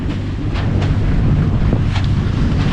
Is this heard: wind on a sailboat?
yes